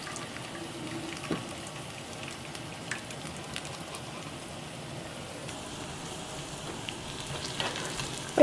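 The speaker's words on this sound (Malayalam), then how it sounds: "അപ്പോൾ അത് സവോളയൊക്കെ ചെറുതായിട്ടൊന്ന് മുരിഞ്ഞു തുടങ്ങിയിട്ടുണ്ട്." Sliced onions fry gently in a pan while parippu curry is cooked, giving a soft, steady sizzle at low level. Faint scattered clicks and pops run through the sound, with no voices.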